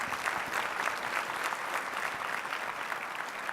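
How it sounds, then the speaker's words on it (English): An audience at a Minority Business Development Agency event gives a round of applause for a standing team, a steady, dense wash of clapping that stays fairly faint and distant throughout. "Please give them a round of applause"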